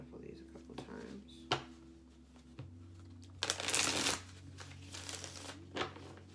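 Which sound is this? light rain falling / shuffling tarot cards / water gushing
shuffling tarot cards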